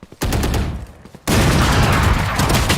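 Ghost pistol gunfire in the tactical shooter Valorant, sharp rapid shots that cut in suddenly and then rattle on as a loud, dense burst of firing.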